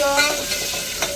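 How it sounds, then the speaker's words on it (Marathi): Dal tempering (phodni) sizzles loud and steady in hot oil, a continuous close frying hiss with small crackles and a stirring scrape, and no voices. "डाळीला मी फोडणी दिली आहे."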